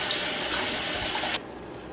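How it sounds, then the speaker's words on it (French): Tap water runs hard and steady into a pot of potatoes for a fricassee, a loud broadband gush that cuts off abruptly near the end, leaving a quiet room. "Donc nous allons juste couvrir d'eau"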